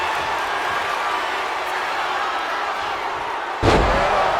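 Wrestler crashing down on the mat in the wrestling video game WWE 2K25, a loud heavy slam near the end over a steady roaring arena crowd.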